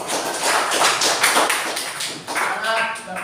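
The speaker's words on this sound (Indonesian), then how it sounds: "Oke, tepuk tangan untuk kelompok 2" A classroom group applauds a student presentation, a dense, steady patter of hand claps sustained throughout with a brief dip near the middle, mixed with faint chatter.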